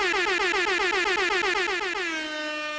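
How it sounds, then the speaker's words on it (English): Air horn sound effect blaring loud and close, a rapid stuttering series of repeated blasts that settles into one sustained tone at the end, nothing else heard. "I'm gonna do the air horn so I could see it on the waveform."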